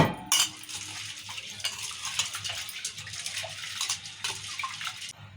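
Close-up swishing and gentle rattling as red gram and other lentils are rubbed and stirred in water, a soft, continuous wet scraping with occasional small clinks.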